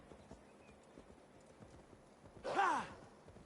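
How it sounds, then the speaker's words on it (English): Soft hoofbeats clop faintly before a horse lets out a short, loud whinny near the end, in the video game Assassin's Creed Valhalla. "Where the hell did that horse come from?"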